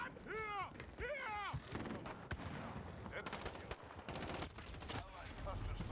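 Enemy gunfire in a shooter video game, a dense rattle of rapid shots and bursts under constant battle noise, with voices talking briefly over the opening.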